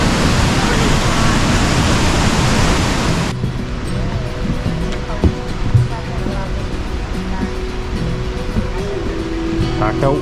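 A big waterfall, Wind Falls on a North Vancouver forest hike, gives a dense, steady roar that is loud and close at first, then drops to a softer, more distant rush with light trail noises.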